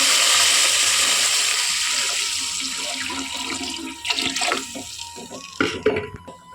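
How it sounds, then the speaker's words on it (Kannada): Water pours into a pot of rice for Muslim-style bagara khana, a close, continuous gush and splash that thins out, then turns to uneven sloshes and clatter near the end. "ನೋಡಿ ಇವಾಗ ನೀರು ಹಾಕ್ತಾಯಿದ್ದೀನಿ"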